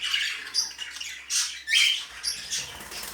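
Pet birds squawk from a breeding cage where the first eggs have been laid, with several loud, shrill calls in quick bursts close by and no talking.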